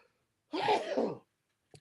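One short, sharp sneeze bursts out in the quiet, close and moderately loud, followed by silence and a tiny click.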